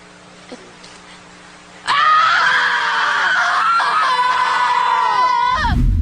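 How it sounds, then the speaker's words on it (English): A girl screams into the woods, one loud, sustained, shrill scream of about four seconds that wavers in pitch, preceded by a quiet, low background hum. "watching that girl at the end scream into the woods and at the suffering of the trees"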